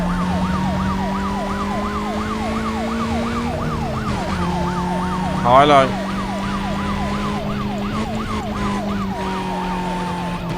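Police car sirens in the Need for Speed: Most Wanted video game wail in a steady rising and falling cycle over a low engine drone, with a brief crash-like burst midway and a voice speaking briefly.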